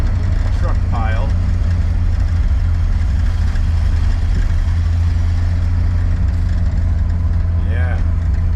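A 1960 Chrysler Savoy engine, rebuilt with a larger machined flywheel and smaller clutch, runs at a steady low rumble throughout, close and continuous, with faint voices briefly over it.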